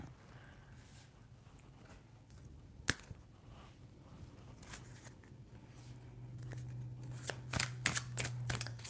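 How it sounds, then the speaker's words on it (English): Dropped tarot cards being gathered up from a surface: faint, close shuffling and soft card slaps with one sharp snap early on, then a quicker flurry of rustling and tapping toward the end. "let me get all the cards that I just dropped"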